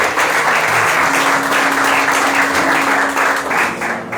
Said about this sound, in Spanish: Denle ese aplauso más fuerte al Rey de Reyes, Señor de Señores.